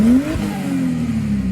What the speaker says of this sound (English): adding extractors and an exhaust will help your engine make more power and torque, but it comes with the added benefit of sounding fucking hectic